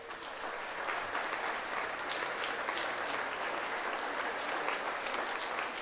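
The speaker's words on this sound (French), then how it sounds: "Merci d'applaudir le président du Parlement wallon, Monsieur André Antoine." Steady, dense applause from a breakfast audience at the Libramont fair, greeting the president of the Walloon Parliament. The clapping is even and sustained throughout, moderately loud, with no speech over it.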